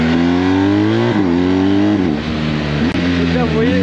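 BMW R 1250 GS motorcycle accelerating hard, the engine note climbing in pitch and dropping sharply at several quick quickshifter gear changes, loud and close with wind noise.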